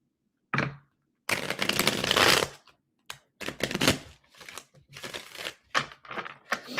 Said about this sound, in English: Let me get a couple more shuffles